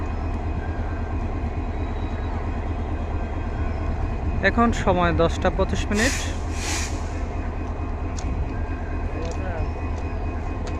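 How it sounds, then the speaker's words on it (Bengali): A train pulls out of Joydebpur station toward Dhaka, its steady low rumble running throughout, with a brief burst of higher rattling and hiss partway through while someone speaks over it. "দশটা পঁচিশ মিনিটে যে ট্রেনটি জয়দেবপুর স্টেশন থেকে ছেড়ে গেল"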